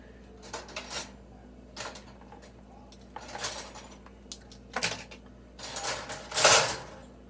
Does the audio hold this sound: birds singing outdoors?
no